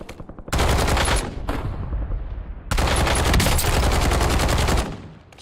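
Rapid automatic gunfire in Call of Duty Warzone, two long, dense, loud bursts of machine-gun fire separated by a short pause.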